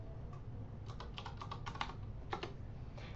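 Someone types on a computer keyboard while working in an Excel spreadsheet, producing a quick irregular run of close, crisp key clicks in small bursts with no talking.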